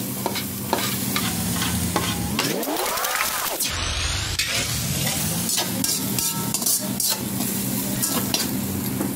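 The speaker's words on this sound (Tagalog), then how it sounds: "Dito rin tayo nagsutay sa pinagprituhan natin ng beef." Onion sautéing in oil left over from frying beef for beef broccoli in oyster sauce, a steady close sizzle with stirring scrapes throughout and a brief sweeping tone partway.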